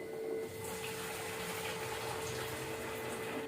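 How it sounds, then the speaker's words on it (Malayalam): Boiling water pours steadily into a pot, a continuous rushing fill with a faint steady hum underneath. "കുറച്ച് തിളച്ച വെള്ളം ഇതിലേക്ക് ചേർക്കാം"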